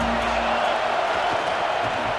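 Stadium crowd at a Baylor college football game cheers and roars steadily, a dense continuous wash of many voices with no clear peaks.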